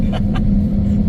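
A car engine labors up a steep, almost vertical road in Tabuk near AlUla, giving a steady loud rumbling drone close to the microphone with no break.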